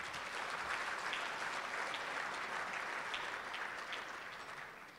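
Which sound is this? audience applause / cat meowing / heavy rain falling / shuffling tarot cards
audience applause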